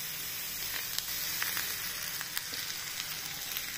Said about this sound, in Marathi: आता आपलं ही जी पराठा आहे ते आपण तव्यावरती पलटी करायचा आहे